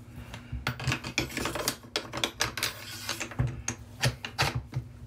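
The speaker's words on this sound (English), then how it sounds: "Take your hand guard, and you can wipe it out." A Rock Island Armory VR80 shotgun hand guard is wiped out by hand, giving irregular soft rubbing and scraping strokes with small clicks, close and fairly quiet.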